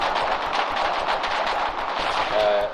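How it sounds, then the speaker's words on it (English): Dense automatic gunfire in a war video game rattles steadily throughout, loud and close, with overlapping bursts and no let-up. "Lots of gunfire now, not much engineering work going on."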